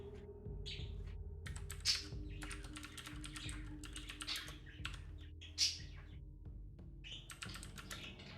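Computer keyboard typing in bursts of quick, close key clicks, separated by short pauses, over a low steady hum, with no talking.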